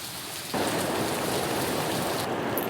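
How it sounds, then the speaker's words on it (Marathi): Heavy downpour in Palghar district, a loud, dense roar of rain that suddenly swells after a quieter start and stays constant, with no talking. "पालघर जिल्ह्याला आज पावसानं अक्षरशः झोडपलेलं आहे"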